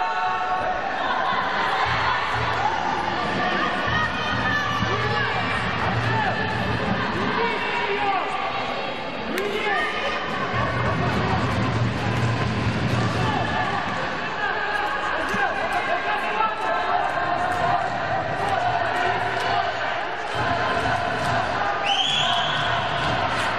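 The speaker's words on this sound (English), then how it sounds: "10 people from Kazakhstan cheering somewhere behind me, but you can hear them" Crowd at a youth and junior sambo world championship finals, with a small group of Kazakhstan fans shouting and cheering in the distance under ongoing arena chatter and someone talking close by.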